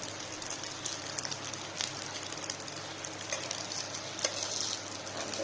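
Leftover cooked rice sizzling in oil in a pan, a soft, steady crackle close by with faint occasional scraping.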